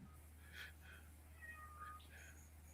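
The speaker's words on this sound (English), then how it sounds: "I hear a cat. Somebody, there's an upset cat." An upset cat in a room meows several times in short, rising, plaintive calls over a low steady hum, faint and somewhat distant.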